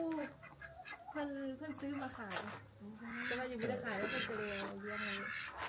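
A turkey at a village home in Xiangkhouang, Laos, gobbles and calls in faint, rough bursts, mixed with other fowl sounds while people talk nearby.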